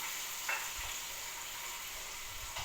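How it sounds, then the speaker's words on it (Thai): Food, likely a cut of steak, frying in a pan: a steady broad sizzle holds throughout, with a couple of brief louder pops and spatters over it. "อันนี้เราทอดมันแล้วนะคะ"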